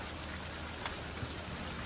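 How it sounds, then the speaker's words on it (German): Steady rain falls in a survival video game, an even wash of drops on a surface with small spatters here and there, faint and continuous, and no one speaks. "Sommerwasser kriegen wir jetzt schön durch Regen"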